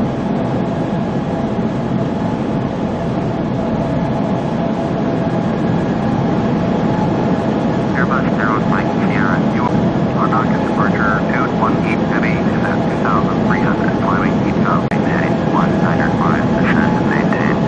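Jet engines of an Airbus A310 on a flight from Heraklion to Larnaca, a loud, constant cabin roar with a broad hiss; faint radio talk with a thin warbling tone drifts in partway through.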